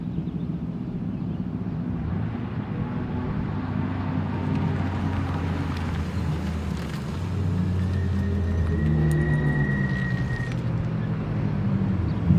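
A Tesla Model Y is driven hard around Buttonwillow Raceway, giving a steady, continuous electric drivetrain whine with road and wind rumble from inside the SUV and a faint rising tone partway through.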